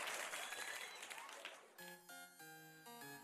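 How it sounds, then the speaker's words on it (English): Applause spreads through a cathedral in the Umineko video game: soft, dense clapping for under two seconds, then steady sustained music tones take over. "When the territory lord clapped his hand in celebration, it spread throughout the entire cathedral."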